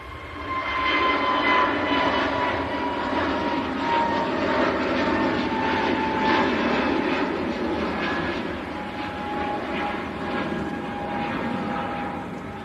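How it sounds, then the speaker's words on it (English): A KLM Airbus A321neo jet departs Manchester Airport, its engines producing a steady, loud roar that holds level throughout, with a broad whine riding on the rumble. "the brand new KLM going back to Amsterdam. Airbus A321neo."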